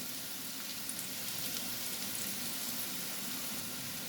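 Onions and snake gourd with turmeric frying in a pan, a constant moderate hiss and crackle from nearby that carries on evenly without voices.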